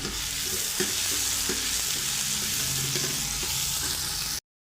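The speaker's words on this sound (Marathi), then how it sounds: "कांदे आहेत ना चांगले परतून घ्यायचे" Onions sautéing in oil in a pan for a Maharashtrian chavali usal, a steady close sizzle with scraping stirs throughout, no voices.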